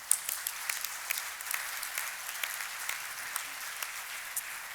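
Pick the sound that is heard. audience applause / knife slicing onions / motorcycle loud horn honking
audience applause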